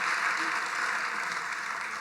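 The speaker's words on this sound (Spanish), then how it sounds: "Un aplauso para él." A church congregation applauds, a steady wash of clapping from the audience, moderately loud and even for a short stretch.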